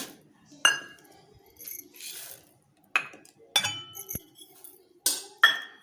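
Dry toor and chana dal with fenugreek seeds poured into a metal pot, a series of sharp clinks and rattling scatters in separate bursts, close and clear.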